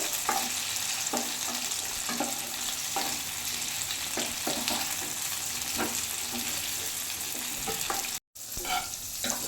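Pieces of chicken sizzle in hot oil in a pan, a constant close crackle broken by utensil clinks and scrapes as the fried chicken is lifted out, with a brief gap near the end.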